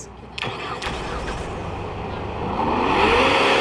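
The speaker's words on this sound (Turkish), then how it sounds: "şimdi abi motor ve çalışma sesine de bakalım" A car engine in Car Simulator 2 cranks to life with a couple of starter bursts, then idles steadily before revving up, close and loud.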